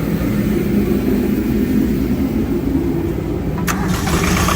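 A Freightliner truck APU generator engine starts and runs with a steady, loud low rumble throughout, a brief higher clatter breaking in near the end.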